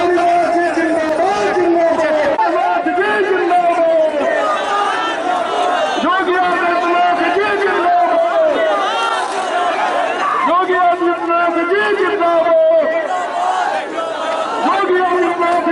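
A large excited crowd at a political rally roars and chants continuously, dense and loud, with shouting voices and a raised amplified voice over the din.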